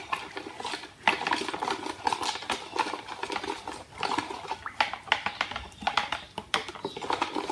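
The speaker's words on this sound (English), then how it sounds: "I use the thick end to stir. Stir it fairly well." Plastic chopsticks stir wool dye in a cheap plastic container, making rapid, irregular clicking and tapping against its sides, close and continuous with no talk.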